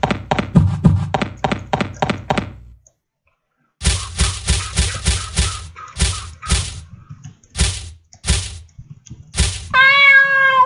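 A cat in a video game meows in a quick run of repeated short calls, then a pause and more bursts of meows, ending on one longer drawn-out cry, loud and close.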